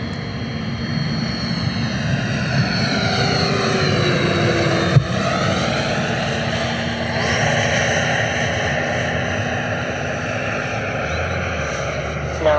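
A Black Horse Viper XL RC EDF jet with a 100 mm fan and WeMoTec Midi EVO motor on a 12S 110 A setup flies past. It makes a steady, loud ducted-fan whine that slowly shifts in pitch as it passes overhead, with no talk.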